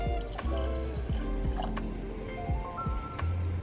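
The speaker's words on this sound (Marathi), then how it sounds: "आता आपल्याला पाणी टाकायचंय" Water is poured into rice tempered with oil in a pot, giving a run of gurgling, glugging splashes with bubbly dripping tones rising in quick succession, fairly close and alone.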